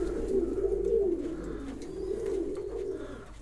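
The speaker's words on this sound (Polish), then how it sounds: "tylko chciałem wam pokazać gołębia z charyzmą" A pigeon coos in a loft, low, soft, rolling calls repeating close by over a faint background hum, with no voices.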